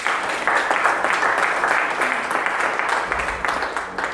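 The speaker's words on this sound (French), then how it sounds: "Acclame très fort pour le Seigneur." A church congregation applauds loudly for the Lord, producing a dense, steady roar of many hands clapping that continues without a break for several seconds, close and full.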